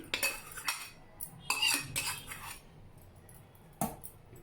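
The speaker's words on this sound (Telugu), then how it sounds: "ఇందులోనే పోసేసి చూడండి ఇలా కలిపే కలిపేసుకోండి" Nellore-style buttermilk stew mixed and poured back and forth between vessels with turmeric and oil, making quiet metallic clinks and scrapes that come in bursts with pauses between them.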